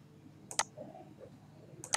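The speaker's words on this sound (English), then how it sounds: "You click the play button." Two sharp computer mouse clicks sound close and alone, one early and one near the end, with quiet room hiss between them.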